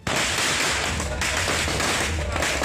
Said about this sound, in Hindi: कार्यकर्ताओं ने पहले पटाखों से अपने नेता का स्वागत किया